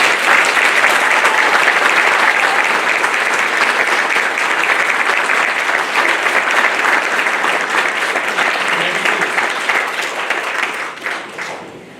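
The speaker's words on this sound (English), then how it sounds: "Families, please join me in a round of applause for the Navy's newest 3rd class officer." Families applaud Navy graduates at a Nuclear Field "A" School graduation ceremony: a dense, sustained round of clapping from a large crowd that holds steady for about eleven seconds and then thins out at the end.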